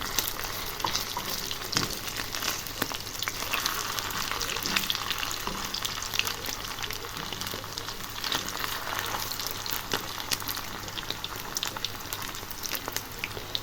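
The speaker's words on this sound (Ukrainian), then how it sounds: "в мене вже готові котлетки. І тут вже смажаться." Steady, loud sizzling and crackling of meat patties frying in a hot pan, continuous with faint pops and no voices.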